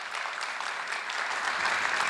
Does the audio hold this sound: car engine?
no